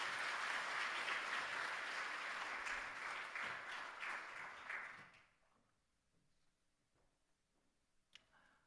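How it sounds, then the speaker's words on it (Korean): A church congregation applauds during a Sunday worship service, with dense, sustained clapping for about five seconds that fades away into quiet room noise and a single faint tap. "여러분 큰 박수로 축하해 주시기 바랍니다."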